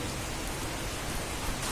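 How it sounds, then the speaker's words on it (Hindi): Heavy rain falling outside a home in the evening, a dense, steady hiss of downpour with no breaks, close and fairly loud throughout. "और अभी जो स्टार्ट हुई है अभी काफी तेज"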